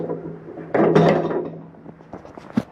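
The folding entry steps of a 2023 Flagstaff E-Pro 19FD travel trailer swing down with a metallic clunk and rattle, followed by smaller settling knocks, loud and close.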